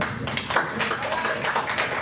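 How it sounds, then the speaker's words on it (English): Port commissioners and attendees clap after a desalination motion carries, a brief round of scattered hand claps mixed with voices and room noise at a public meeting. "A round of applause"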